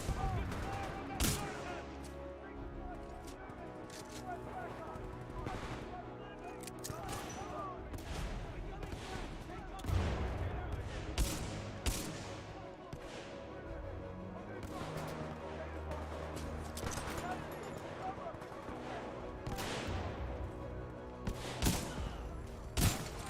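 Supporting gunfire from a Titan mech in the video game Titanfall 2: dense, sustained bursts of shots with heavy thumps across the whole span, with voices talking over it.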